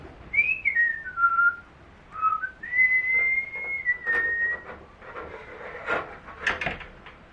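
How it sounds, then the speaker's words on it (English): A person whistles a wandering tune up close while installing workshop lighting, with faint knocks and rubbing of handling work in the background. "Supposed to be whistling when you're doing a job like this"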